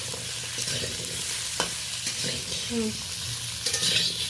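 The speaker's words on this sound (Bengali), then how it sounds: "এই দেখুন সজনে ডাঁটা, আলু আর মিষ্টি আলু এইগুলো বেশ ভালো করে আমি 2-4 বার নেড়ে নিলাম।" Drumstick, potato and sweet potato fried in a pan for a mixed vegetable dish are stirred, giving a steady sizzle with brief scraping strokes of the spatula, close by and with no talking.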